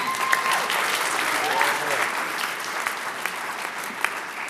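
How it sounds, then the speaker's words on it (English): Audience at a police department promotions ceremony applauding, a dense sustained wash of clapping with scattered cheers, with voices faintly audible under it. "I encourage you to cheer on your loved ones"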